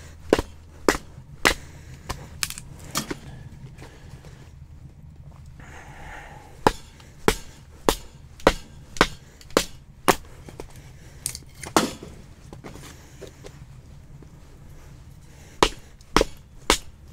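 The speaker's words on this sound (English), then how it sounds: "I'm gonna go ahead and baton some wood because all the stuff's wet on the outside." Wet firewood being batoned with a Kelpark XL knife beside a hot tent: loud, sharp woody knocks, in quick irregular bursts with short pauses between, close up and with no talk.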